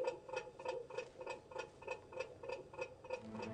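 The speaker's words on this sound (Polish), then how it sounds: "To jest budzik, żebyś już nigdy rano nie zaspał." An alarm clock ticks in a steady, even rhythm, about three ticks per second, quiet and close with a faint ringing tone under each beat, and nothing else audible.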